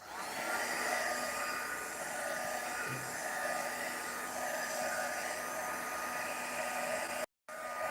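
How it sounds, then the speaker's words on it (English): A heat gun blows hot air onto a wet Christmas craft decoration, a steady, loud whooshing hum that runs unbroken for several seconds before cutting off sharply near the end. "my heating gun for drying"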